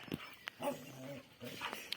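Dog barking near a rabbit outdoors, a few short yelping barks and whining tones spread across the moment, fairly close.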